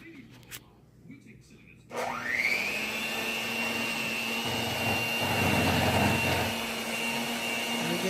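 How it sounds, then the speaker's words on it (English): An electric hand mixer whirs steadily, blending sweet potato pie filling after a few soft kitchen clatters, then runs loud and continuous with a sustained whine and some grinding variation as it churns. "So we're going to use the mixer now."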